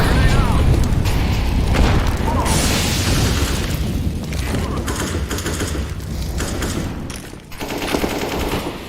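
Grenade explosion in the video game CS:GO, a heavy boom amid dense rapid gunfire throughout a chaotic firefight, loud and close, with players talking over the action.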